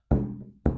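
Two close, hollow, drum-like knocks come from tapping a stretched ceiling canvas near a glued light-fixture ring, each thud ringing briefly with a low resonant boom, and no voices.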